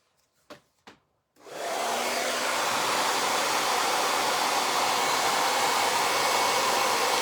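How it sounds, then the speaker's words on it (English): A couple of sharp clicks, then a hair dryer switches on and blows with a steady, loud, broadband rush that holds evenly to the end, with no talking. "I'm going to blow dry this real quick so I don't mess it up."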